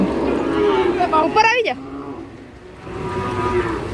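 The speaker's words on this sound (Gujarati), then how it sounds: "તો કેટલી બધી ગાયો ભાઈ" At a cow shelter, a cow lets out one close, drawn-out moo amid the low murmur of the herd, and a person speaks briefly.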